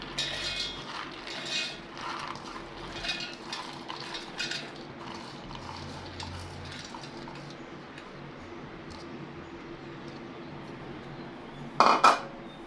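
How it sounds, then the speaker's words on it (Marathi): Whole mung beans are poured into a steel mixer jar. A short, bright rattle bursts near the end, after a long stretch of faint, quiet room sound. "मी एक मिक्सरचं भांडं घेतलेलं आहे. त्याच्यात आता हे सर्व मूग आपण टाकून घेऊया."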